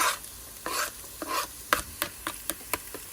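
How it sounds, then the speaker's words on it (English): Chopped onions go into hot oil in a pan on a medium gas flame, giving a steady close sizzle broken by several scraping stirs that repeat in quick, uneven strokes. "So the chopped onions go in."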